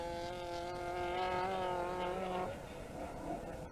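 Ford Escort rally car on a 1991 West Cork Rally stage, engine howling at high revs as it slides past, then fading away after a few seconds.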